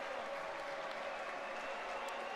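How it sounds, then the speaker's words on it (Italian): Applause fills a futsal arena, the Pala Cesaroni, in the final seconds of a Serie A match, a dense, even clapping heard from a distance with no voices on top. "partono già gli applausi al Pala Cesaroni"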